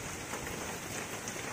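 Outdoor rain falls as a steady, even hiss with no distinct drops or voices, a soft constant wash throughout.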